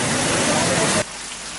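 Heavy monsoon-season rain pours down in Sri Lanka's Kilinochchi district during flooding, a loud, dense hiss for about a second before dropping to a quieter wash.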